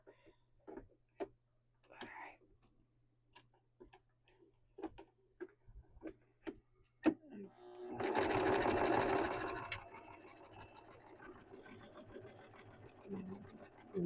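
A sewing machine stitches a zipper pouch in one short, fast burst that follows a stretch of quiet, scattered clicks and handling taps. It then trails off into faint rustling.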